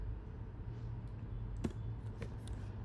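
A few soft keystrokes on a computer keyboard, quiet scattered clicks about a second apart over a low steady hum.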